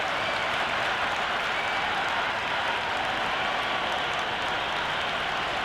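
A cricket stadium crowd at the start of an India match cheers and applauds, a dense, continuous roar of clapping and voices spread wide and steady throughout.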